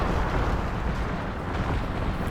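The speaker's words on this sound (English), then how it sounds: "Oh, look at those bombs! Absolutely bombarding the hell out of us here." Artillery bombardment in a Thirty Years War Total War battle makes a dense, continuous roar of overlapping explosions, loud and rumbling without a break for the whole stretch.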